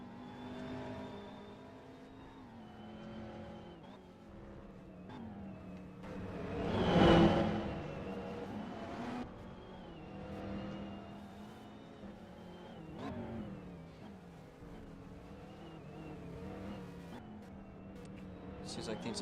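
GTI race cars lapping Vermont International Speedway, engines droning and shifting pitch as they pass, one car surging loudly past midway through, heard from a distance with steady track ambience.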